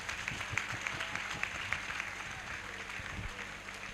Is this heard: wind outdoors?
no